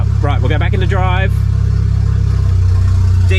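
BMW N54 engine idling low at about 500 RPM in drive, its aftermarket exhaust giving an odd steady drone; low, continuous rumble up close, with a person talking briefly over the start.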